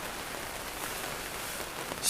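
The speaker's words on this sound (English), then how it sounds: "It's raining again." Steady rain patters on a Tentipi Safir 7 tipi tent at a bushcraft camp, a dense, even hiss of drops filling the short stretch with no voices.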